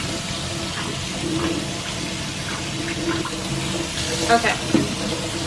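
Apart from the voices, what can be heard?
rinsing chickpeas with water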